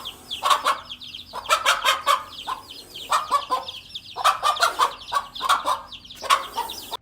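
A mother hen clucks loudly and repeatedly while guarding her chicks from a cobra, her calls coming in close, clear bursts with short pauses between them and no talking.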